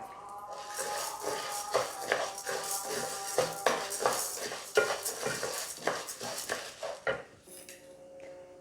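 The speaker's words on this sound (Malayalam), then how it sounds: "അര കപ്പ് കടലപ്പരിപ്പ് അതുകൂടെ ചേർത്ത് കൊടുക്കാം" Half a cup of chana dal lentils tipped into a pan while making dosa podi, giving a dense, steady rattle and scrape of dry grains against metal with stirring clatter, close and alone.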